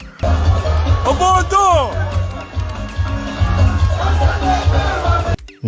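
A large outdoor crowd at a DJ music event roars with babble, cheers and whoops over a heavy thumping bass beat, with a nearby voice talking through it.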